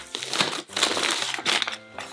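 Wrapping paper on a Christmas gift package crinkles and crumples in steady bursts as it is torn open, close and fairly loud, with a short pause partway through.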